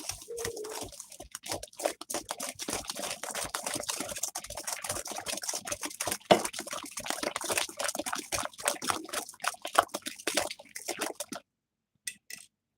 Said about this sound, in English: And we're gonna whisk.